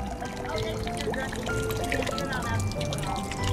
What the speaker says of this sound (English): looks like I'm losing a little bit of my rainwater. Anyway, it's just now overflowing, I think.